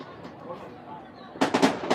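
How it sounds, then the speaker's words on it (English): Fireworks go off during a quidditch league match, a quick cluster of sharp bangs and pops arriving late after a stretch of crowd and commentary murmur. "I believe that is fireworks."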